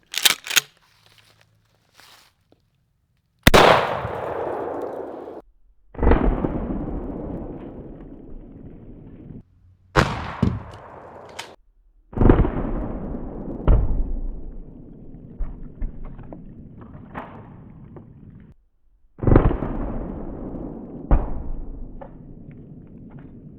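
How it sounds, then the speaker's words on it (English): A Mossberg 500 12 gauge shotgun firing birdshot target loads at a Hi-Point C9 9mm pistol, roughly half a dozen loud, sharp blasts spaced a few seconds apart outdoors, each followed by a long rumbling decay. "This is going to be a Mossberg 500 12 gauge shooting pellets, just birdshot, target load type of stuff,"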